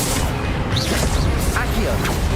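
A disarming spell's magical burst from Hogwarts Legacy combat, with booming impacts and crackling effects under a character's voice shouting in the fight.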